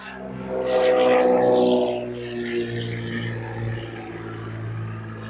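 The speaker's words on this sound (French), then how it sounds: "Ah, un truc qui décolle. Décollage." An aircraft takes off from Lausanne airfield, heard from the ground as a loud tonal engine roar that swells, then fades into a steady distant drone.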